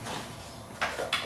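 The plastic air filter compartment door on a Craftsman 21-inch 3-in-1 mower with a Briggs and Stratton engine snaps shut with two quick, close clicks over a steady background hiss.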